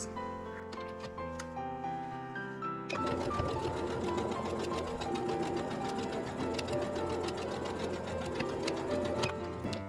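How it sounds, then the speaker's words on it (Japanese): A sewing machine quilts a hexagon patchwork handbag in a fast, even stitching rattle that runs quietly at first, then jumps louder and carries on continuously, close up with no voices. "キルト線を引いたところをキルトしていきます。"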